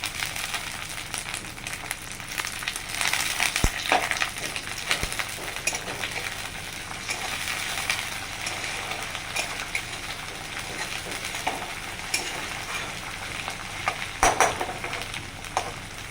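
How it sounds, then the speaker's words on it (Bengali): Curry leaves sizzling and crackling in hot oil for Rajasthani kadhi, a steady close frying hiss with scattered sharp pops throughout and no talking. "ବହୁତ ଭଲସେ ଭାଜି ହେଲା ପରେ ଆମେ ଦେଉଛୁ ଭୁସୁଙ୍ଗା କାରି ପତ୍ର"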